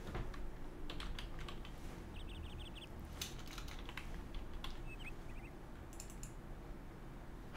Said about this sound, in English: Let's type it in.